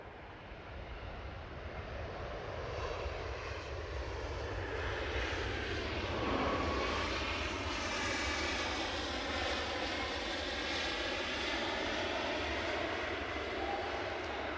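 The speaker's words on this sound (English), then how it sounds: "Yep, that is my plane of the day." A fixed-wing airplane flies over Aberdeen airport with a loud, sustained engine roar that swells and shifts in pitch as it passes close overhead, then holds steady without fading.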